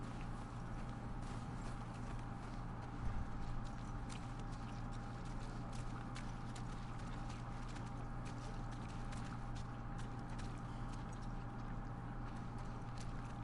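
Horse hooves clip-clopping in The Last of Us Part II video game, a faint, steady rhythm of steps beneath a constant hum of ambient game noise.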